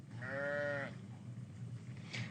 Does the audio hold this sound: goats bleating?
yes